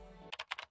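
Keyboard typing in the SD Gundam Battle Alliance video game: a quick burst of about five faint, crisp key clicks following a brief quiet hum.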